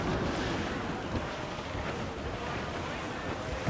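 Strong wind and rough sea waves in Assassin's Creed Black Flag, a steady roaring, rushing wash of air and surf that stays constant throughout.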